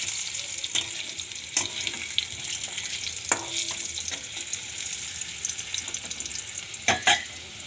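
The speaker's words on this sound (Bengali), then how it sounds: "আলুগুলো ছেড়ে দিই, আলুগুলো একটু ভেজে নিই।" Potato pieces fry in hot oil in a pan, a steady loud sizzle with a few clinks and scrapes of stirring now and then.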